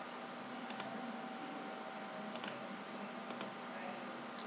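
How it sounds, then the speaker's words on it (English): A computer mouse clicks in quick pairs, several crisp double clicks spaced apart over a low steady room hum, near and quiet. "Let me double click here."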